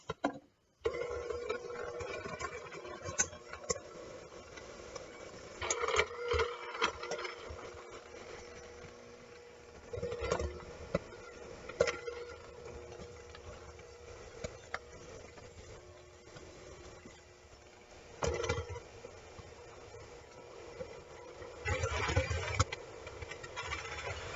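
Butter creamed for red velvet blondies, metal beater scraping against a metal bowl, making a loud, steady rattling whir that rises into sharper clattering bursts now and then.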